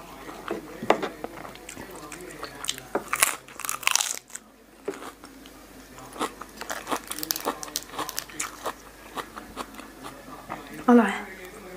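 Spicy Thai salad of pork sausage with fermented fish sauce being eaten close to the mic, with loud crisp bites and wet crunchy chewing in irregular bursts, a brief pause midway and a louder rustle near the end.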